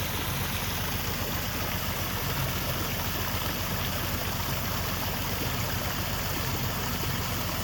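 Steady rushing and splashing of water from a garden hose pouring over a natural stone waterfall spillway rock at a pool's edge, a continuous broadband wash that holds at an even level throughout with no voices.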